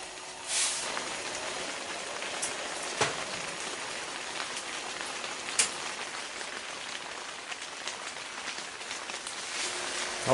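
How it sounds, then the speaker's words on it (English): Steady rain falls at night during a Minnesota duck hunting opening weekend, a constant soft hiss of drops on surfaces with a few sharper drips, fairly quiet and with no talking. "the rain is falling again"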